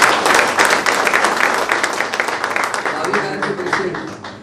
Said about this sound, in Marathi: त्याबद्दल त्यांना आपण जोरात टाळ्या वाजवायचा.